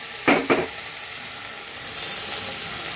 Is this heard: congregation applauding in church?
no